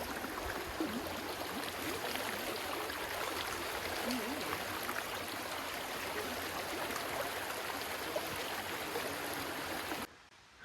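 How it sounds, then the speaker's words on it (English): An Adirondack mountain stream rushes steadily over rocks at a trail crossing, a dense, even wash of flowing water heard close by that cuts off abruptly near the end. "Adirondack stream crossing."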